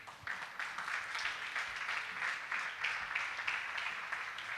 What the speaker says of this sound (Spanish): ¿Cuánto le dan un aplauso al Señor en esta mañana?